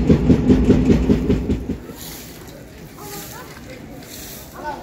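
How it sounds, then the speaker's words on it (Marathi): The Dhanbad–Kolhapur Express rolls along with loud rhythmic wheel clatter for about two seconds, then drops to a quieter rumble, and a voice is heard under it. "ही जी ट्रेन आहे ती मी पकडतोय."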